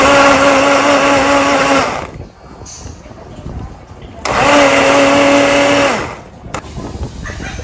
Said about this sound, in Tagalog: Gagawa lang ako ng shake ni Jaden.